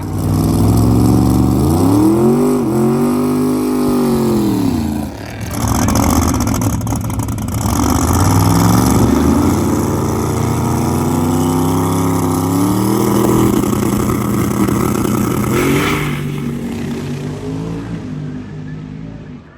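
A drag racing car at a test and tune session roars through a full pass, its engine rising in pitch through the gears with a brief lift midway. It stays loud and sustained for nearly twenty seconds before fading slightly at the end.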